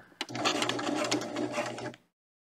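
A sewing machine stitches the lining of a fabric clutch in a fast, steady mechanical whir for about two seconds, close and loud, then stops abruptly.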